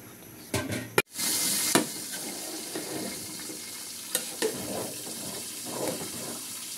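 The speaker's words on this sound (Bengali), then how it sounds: "চুলার আঁচটা কমিয়ে নিয়ে বারবার নেড়ে চেড়ে কষিয়ে নেব" Beef for Bombay mezbani is stirred and fried in a pot, with a clatter of utensils near the start, then a soft sizzle and scraping stirs repeating.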